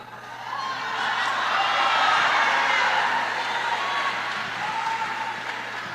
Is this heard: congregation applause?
yes